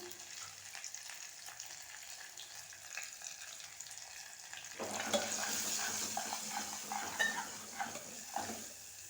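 Onions fry with salt and turmeric in a pan, a quiet sizzle that swells louder halfway through as stirring and scraping clatter join in, close by with no talk.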